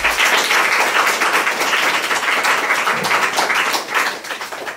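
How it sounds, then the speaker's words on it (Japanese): Sustained applause from an audience at a Japanese landscape society meeting in 2015, approving a statement. Dense, steady clapping fills the whole stretch at full volume, with no talk over it. "拍手をお願いいたします"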